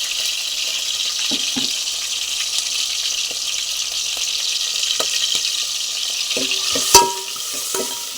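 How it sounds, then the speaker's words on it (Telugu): Raw prawns fry in oil in a pan for a masala gravy curry, making a continuous close hiss and sizzle with a few soft knocks and a sharp clink near the end. "ముందు రొయ్యలు ఆయిల్లో వేపాలి."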